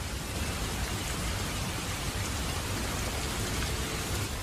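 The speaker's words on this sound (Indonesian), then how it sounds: "Kenapa suara hujan bisa membantu kita tidur lebih nyenyak?" Steady, dense rainfall pouring down continuously, a constant hiss of drops with no pauses and nothing else heard.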